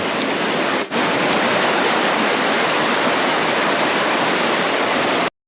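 Rushing river water at a hiking crossing on Sungai Chiling near Kuala Kubu Bharu, a steady loud broadband wash with no talk, briefly dipping once and cutting off at the end.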